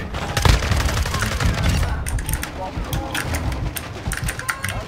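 An MX Guardian gun fires in a video game, bursts of rapid shots rattling in quick clusters over a loud mix of game noise, with a player talking over the action.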